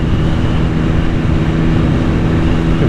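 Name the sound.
2021 BMW S1000XR motorcycle engine while riding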